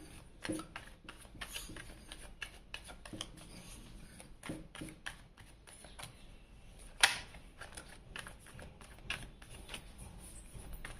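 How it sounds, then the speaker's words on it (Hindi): Tarot cards are shuffled close by in quick, irregular soft riffles and slaps, faint and fairly quiet, with one sharper snap partway through and no voices. "यहाँ पे कार्ड शफल कर लेते हैं।"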